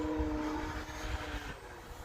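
A small propeller plane engine drones steadily nearby, a continuous buzzing whine that shifts slightly in pitch as it passes.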